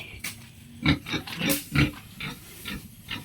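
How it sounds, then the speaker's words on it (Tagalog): A pig grunts repeatedly in a series of short, rough snorts at an uneven rhythm, fairly close, with quiet outdoor background between grunts. "Ay, may baboy pala dito guys."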